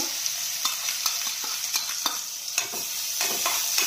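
Green chilli paste fries in hot oil with cumin, giving a steady close sizzle punctuated by frequent sharp spatula scrapes and clicks against the pan, with no voices.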